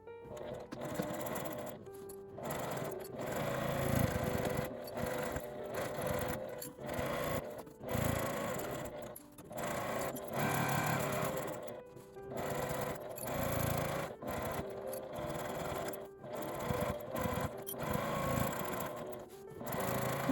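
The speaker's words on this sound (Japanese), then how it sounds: "返し口を開けて1周1センチの縫い代で縫います。" Sewing machine stitching the seam of a fabric zipper pouch with a 1 cm seam allowance, running in close bursts of steady whirring punctuated by brief stops, with no talk.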